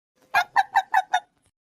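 A chicken clucks five times in a quick, even rhythm, close and clear against silence.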